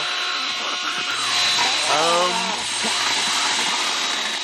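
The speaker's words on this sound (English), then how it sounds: "So happy to hear a chainsaw." A chainsaw in the film Gremlins (1984) drones steadily throughout, its engine pitch wavering slightly, with a brief vocal sound rising over it midway.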